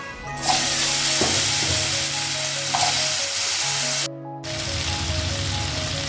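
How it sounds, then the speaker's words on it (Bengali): Potato pieces frying in oil left over from frying katla fish, a loud, dense, steady sizzle up close with a brief cut partway, no talking. "এবার আমি ওই একই তেলে, অর্থাৎ ওই মাছ ভাজার তেলেই আলুগুলোকে ভেজে নেব।"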